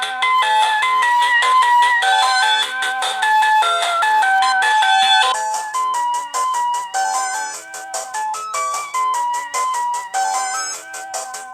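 Front-facing speakers on a Retroid Pocket Mini handheld play bright, chiptune-like melodic game music, loud and close, with bouncy repeated notes and no talking.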